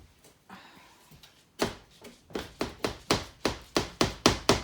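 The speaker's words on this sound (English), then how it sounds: "like a hammer or something, like a rubber mallet, to get some of these pieces in" A rubber mallet taps pieces into place while setting up a model, about a dozen close blows in a quickening steady rhythm after a few softer knocks.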